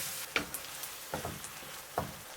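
Teriyaki chicken with bamboo chips being stirred in a hot pan over medium heat, a steady faint sizzle broken by a few soft scraping stir strokes.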